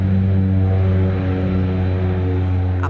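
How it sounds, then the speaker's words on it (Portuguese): A small propeller airplane's engine runs before takeoff on a regional passenger flight linking cities in Minas Gerais, Brazil. It makes a loud, close, steady droning hum that holds throughout, with no talk. "Motor ligado, é hora de mais uma decolagem."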